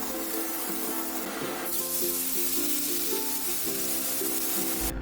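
Hot water poured into a frying pan of hog plum (amra) chutney already seasoned with salt and turmeric bursts into a loud, steady steaming hiss over light background music, continuing for several seconds.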